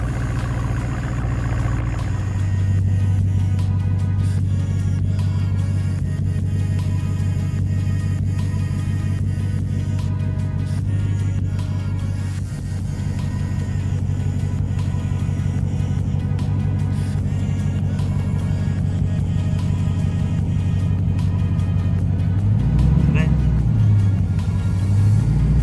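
A lowered car on air suspension idles and creeps slowly up a driveway, with a low, steady engine rumble throughout and a brief swell near the end, while people talk over it.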